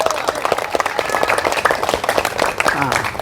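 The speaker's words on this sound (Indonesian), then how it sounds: "Tepuk tangan buat Tuhan." Congregation clapping during an Indonesian church service, a dense burst of hand claps with cheering voices mixed in and speech over it, loud and close throughout.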